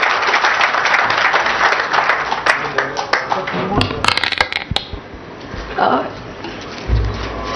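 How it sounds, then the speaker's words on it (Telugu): Applause from a crowd at a government launch event attended by a minister, dense and fairly loud, thinning into scattered claps and a few knocks before fading out. "వాళ్ళందరికీ ఒకసారి చప్పట్లతో అభినందించాలని చెప్పి కోరుతూ"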